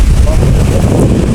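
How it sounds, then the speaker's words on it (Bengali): Strong wind and breaking waves at Kuakata beach, a loud close roar of gusts buffeting the microphone with surf beneath, over a brief moment. "বাতাসের শব্দ, ঢেউয়ের শব্দ,"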